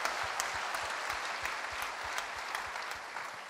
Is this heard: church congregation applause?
yes